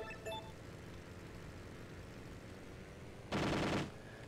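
In the video game Airfix Dogfighter, aircraft machine guns fire one loud, rapid burst lasting about half a second over a steady engine drone, with a brief clink beforehand.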